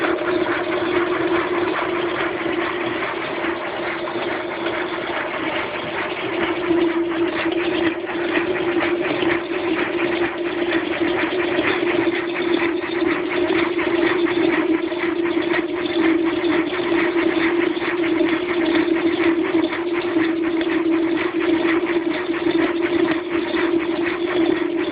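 A live steam model locomotive running in a kitchen with its wheels spinning freely, giving a continuous steady mechanical hum and rapid chuffing vibration at even loudness throughout, close by and without talk.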